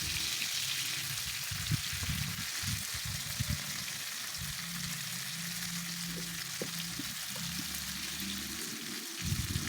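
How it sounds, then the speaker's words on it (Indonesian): Fifteen mixed chilies and tomatoes fry in a small pan, giving a steady, close sizzle with occasional soft knocks and scrapes from stirring. "Kita goreng ya sampai tomatnya itu lembut supaya nanti rasanya gurihnya keluar ya."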